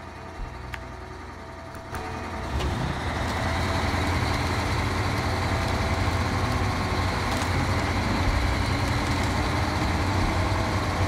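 A heavy truck engine in the video game SnowRunner, droning steadily and loudly as the vehicle drives, with the engine load rising after a couple of seconds and holding a dense rumble.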